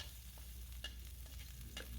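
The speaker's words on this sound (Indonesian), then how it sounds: "tumis hingga harum ya." Garlic sizzles gently in hot oil in a wok while a utensil scrapes and stirs with a few light clinks, fairly quiet and close.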